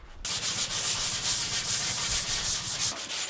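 Steady, continuous sanding on a Ford Ranchero, a close, raspy abrasive rubbing that starts abruptly and keeps going with a rhythmic back-and-forth texture.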